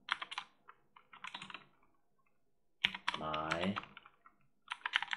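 Someone types a name on a computer keyboard in quick bursts of close key clicks, with a pause between bursts. A person speaks over part of the typing.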